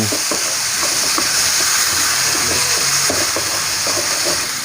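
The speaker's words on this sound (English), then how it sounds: "add on your freshly chopped, finely chopped tomato. Keep on stir frying it" Chopped tomato sizzles loudly in a hot pan with a constant hiss, while a utensil scrapes and taps against the pan as it is stir-fried.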